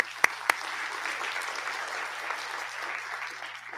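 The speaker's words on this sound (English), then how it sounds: "Round of applause for them." Lecture audience applauding in a steady, even patter, with two sharp nearby claps near the start, then continuous clapping that eases slightly toward the end, no talking.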